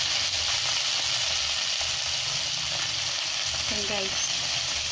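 Onions and tomatoes sauté in a hot pan for ginisang monggo, a loud continuous sizzle and crackle close by, with faint stirring and a voice briefly in the background.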